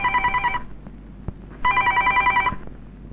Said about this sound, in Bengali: টেলিফোন বাজে শোনা পারস না?